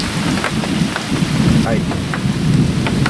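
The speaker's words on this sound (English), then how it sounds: "That thunder is getting closer and closer by the minute." Heavy rain pours steadily at an off-grid property, with deep rumbles of thunder rolling beneath it throughout; a brief word is spoken.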